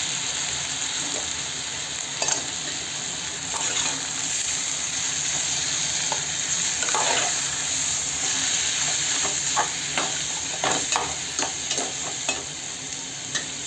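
Three chopped tomatoes frying with onions in a pan for karela sabji, a steady close sizzle with repeated scraping stir strokes and scattered pops, fairly loud and free of talk.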